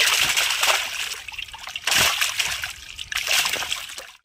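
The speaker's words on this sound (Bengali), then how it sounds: "জল থেকে ধরে নিয়ে এসেছি আর মাছটাকে লাফাচ্ছে দেখুন, আমরা একটু জল দিয়েছি।" A live rohu fish, freshly caught from a pond, thrashes and flops in a little water, giving bursts of close, loud splashing and sloshing that rise and fall over a few seconds.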